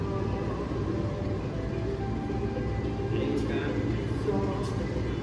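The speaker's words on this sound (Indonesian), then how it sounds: "Aku di kereta ekonomi 4," Interior of an economy-class car on the Malioboro Express train, a continuous low rumble and hum of rolling carriage noise at steady volume, with faint higher squeals and clatter drifting in partway through.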